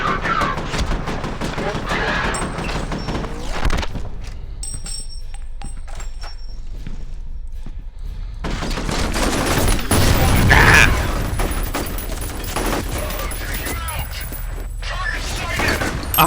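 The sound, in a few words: gunfire in a video game, full magazine unloaded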